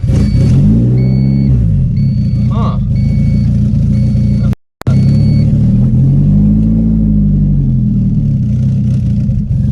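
A car engine idles steadily with the clutch failing to disengage, a low continuous rumble with rising and falling tone and faint repeating beeps, a brief dropout midway and a short murmur from a person.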